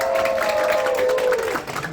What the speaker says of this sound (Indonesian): Tepuk tangan dulu dong buat SMK Negeri 48 Jakarta.